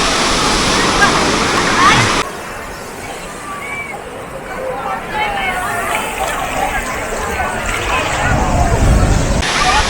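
Sea waves wash steadily onto Juhu Beach in Mumbai, a continuous broad rushing surge that eases after a louder start and swells again near the end, with a murmur of crowd voices beneath.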